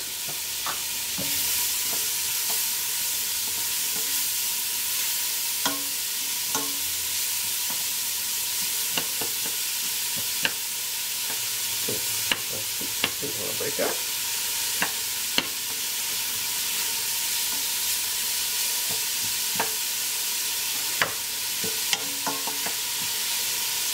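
Two chopped yellow onions sweating in oil for a hearty lamb soup. They give a constant moderate sizzle with frequent spoon or spatula scrapes and taps as they are stirred, close and with no talking.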